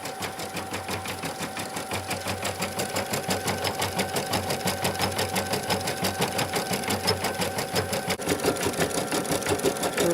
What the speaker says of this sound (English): I like how the thread just stitches down that yarn.